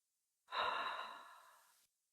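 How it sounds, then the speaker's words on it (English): A single deep breath during a gentle yoga stretch, drawn in through the nose and let out through the mouth, one soft, close airy exhale that gradually fades, with no talking. "Take a nice deep inhale through the nose and exhale through the mouth."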